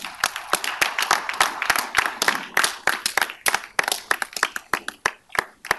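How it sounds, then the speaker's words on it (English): Steady clapping from a small crowd at a Memphis City Council meeting, many hands applauding at an even pace without voices. "absolutely give her an applause"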